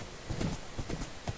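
Horse hooves clip-clop in a steady rhythm as several horses travel together in a video game, with about five sharp hoof strikes spread over a short stretch at moderate loudness.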